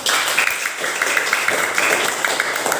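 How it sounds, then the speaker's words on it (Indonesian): A school classroom full of people claps continuously at a steady level, dense and moderately loud throughout. "tepuk tangan dulu untuk si Edward."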